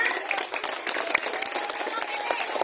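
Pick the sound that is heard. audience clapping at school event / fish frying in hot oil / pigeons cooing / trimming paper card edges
audience clapping at school event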